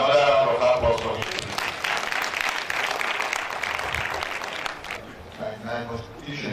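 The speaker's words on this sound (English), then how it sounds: "Another round of applause for him." Audience applause fills a hall at a national workshop for court secretaries, registrars, process clerks and bailiffs in Nigeria, steady dense clapping for several seconds that thins toward the end.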